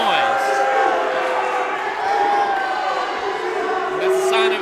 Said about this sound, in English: Mixed reaction here from the crowd